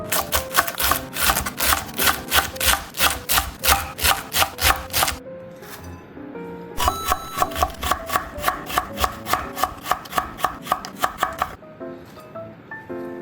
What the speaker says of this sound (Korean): 이것도 얇게 채 썰을게요.